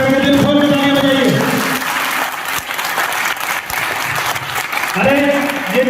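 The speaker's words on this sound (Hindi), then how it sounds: "एक बार हाथ ऊपर करके दिल खोल के तालियां बजाइए।" Seminar attendees in Etawah, Uttar Pradesh clap loudly and continuously, a full room of applause under someone speaking loudly over a microphone at the start and end.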